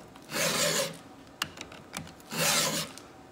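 A hand file rasps across the chain of a STIHL MS290 chainsaw with an 18-inch bar, two bursts of gritty strokes separated by a few light clicks and taps, close and fairly quiet.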